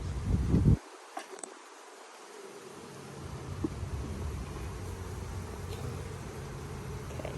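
Honey bees in an opened hive where newspaper had been added hum in a steady, close buzzing drone that fills the whole stretch, without any talking.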